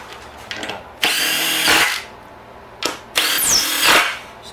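Power drill driving screws into a wooden Christmas yard art tree, two loud bursts of whirring motor with short spin-ups between them, close and without speech.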